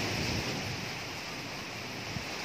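Strong typhoon wind roars steadily in a constant, loud broadband rush with no breaks and no voices.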